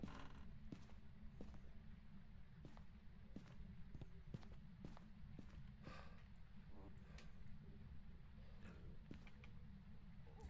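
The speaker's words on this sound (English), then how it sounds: "You barely hear the footsteps until it gets close." Ghost footsteps in the horror game Phasmophobia, a faint, steady series of soft thuds over a constant low background hum, never clearly loud or close.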